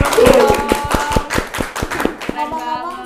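An audience at a Paskibraka Wonosobo 2023 gathering claps in close, sharp, rhythmic bursts that fade slightly toward the end, with a voice faintly underneath.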